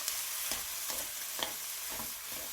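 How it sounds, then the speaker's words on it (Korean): Blanched webfoot octopus stir-fried quickly with vegetables, chili and spicy sauce sizzles steadily in a hot pan, with rhythmic scraping stirs about every half second, close and moderately loud. "데쳐준 쭈꾸미는 빠르게 볶아서 탱글한 식감을 살려주세요."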